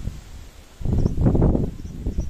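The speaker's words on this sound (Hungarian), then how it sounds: "keményebben fúj a szél." Strong wind blowing through a garden ahead of a storm, a low rumbling gust that swells after a quieter start and stays loud and rough, with leafy rustle on top.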